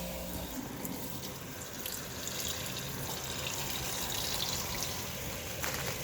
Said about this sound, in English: turn this water on